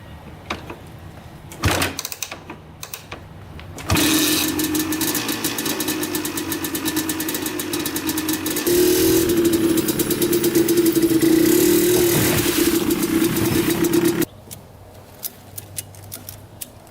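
A Honda TRX250R two-stroke ATV engine crackles and pops at idle before revving up into a loud, sustained ringing drone while being ridden, rising higher midway, then cutting back to quieter idling.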